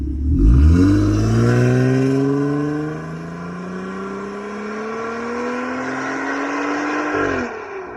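A 2016 Jeep Wrangler Rubicon with a custom exhaust fires up with a loud crank and bark, then settles into a steady, rumbling idle with a rising then easing tone, close by and without talk.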